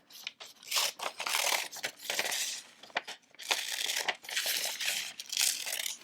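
Scissors snip out a paper pizza picture, close crisp crunching and rustling cuts in irregular bursts with short gaps between strokes.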